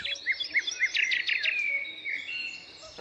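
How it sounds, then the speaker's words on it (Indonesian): High, quick chirps and a short trill from birds ring out in a mountain forest on Gunung Ciremai, fairly close and clear over faint background hiss. "mendengar suara angin dan riuh kicau burung membuat hati kita tenang"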